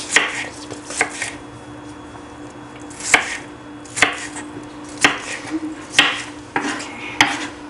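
A knife slicing green tomatoes on a cutting board, about ten sharp chops spaced roughly a second apart over a low kitchen hum, close and distinct.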